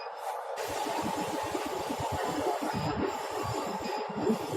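An NC servo feeder for precision metal stamping runs during a manual feed test, giving a steady mechanical hum with a low rumbling drive sound that continues evenly for several seconds.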